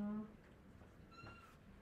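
A wet cat gives a short, clear meow near the start, then a softer, higher mewing cry a moment later, indoors with a person nearby.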